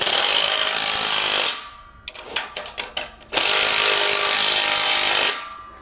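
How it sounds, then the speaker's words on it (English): Three-quarter-inch wrench and socket tightening a bolt on a MicroSport Overland trailer: a short burst of quick ratcheting clicks sits between two long, loud stretches of power-tool whirring. "Tighten it down. Three-quarter-inch wrench and socket."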